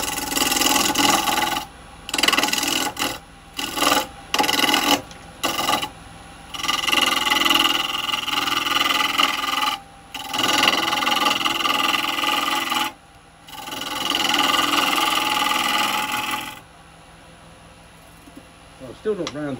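Wet wood is rough turned on a lathe with a carbide tool, giving loud, close bursts of scraping and rasping cut by frequent pauses, over a steady machine hum that carries on alone near the end.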